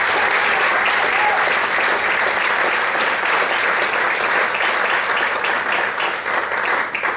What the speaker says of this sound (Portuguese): Quantos podem aplaudir bem forte o Senhor nessa noite?